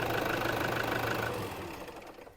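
A 2013 Toyota Fortuner 4x4 manual diesel engine running, a steady close rumbling idle with a slight knocking texture that fades down near the end as it is switched off.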